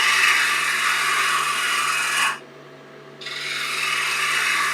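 A woodturning gouge cuts a wooden bud vase spinning on the lathe, a loud continuous scraping rasp that cuts out briefly and then resumes while the lathe hums underneath.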